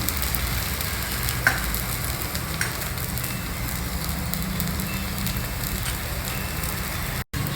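Buttermilk dosa cooking in a hot covered pan, a steady soft sizzle and crackle of batter frying that holds evenly throughout with no voices, cut by a brief dropout near the end.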